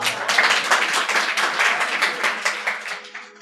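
An audience at a Hindi poetry recital applauds, a dense, steady burst of many hands clapping that carries on for several seconds and fades slightly at the end.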